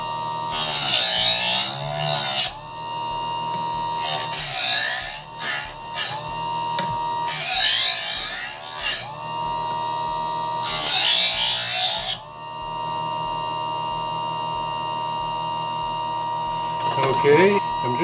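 A knife blade that has never been sharpened is drawn across a sharpener in four long rasping strokes, each lasting over a second with short pauses between, loud and close, with a steady hum underneath.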